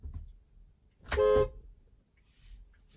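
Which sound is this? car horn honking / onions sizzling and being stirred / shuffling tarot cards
car horn honking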